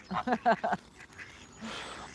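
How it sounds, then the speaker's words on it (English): Mallard ducks quack by a riverside where swans are fed, a quick run of four loud, close quacks followed by quieter rustling and faint background calls. "Mr. Mallard has said hello, Mr. Pigeon, Mr. Goose."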